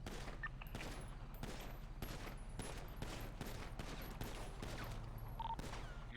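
Rapid volleys of gunfire crackle through a GTA V roleplay game session, sharp repeated shots fired in quick bursts at a steady rhythm over ambient game noise.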